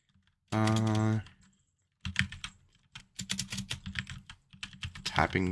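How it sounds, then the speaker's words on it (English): Keyboard typing comes in quick clattering bursts of keystrokes, preceded by a short electronic tone and a pause. "Typing noises."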